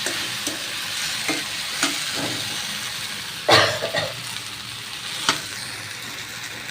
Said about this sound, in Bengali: ভেন্ডির সাথে দুটো আলু দিচ্ছি, আলু দিই, ভাজি করে ভেন্ডিটা নিব